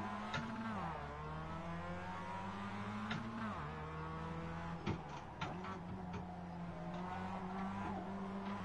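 A Mazda Miata race car in the iRacing video game, its engine droning steadily with repeated revs and gear shifts, plus a few sharp clicks, heard quietly without talk.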